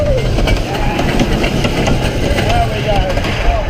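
Wildfire, a Rocky Mountain Construction wooden roller coaster at Kolmården, roaring and rattling over its track through an inversion, a loud, continuous rumble with clattering wheels and a voice talking over it.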